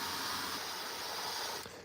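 Airbrush spraying paint onto a Warhammer miniature: a steady, close, continuous hiss of air and paint that holds evenly for nearly two seconds, then cuts off abruptly.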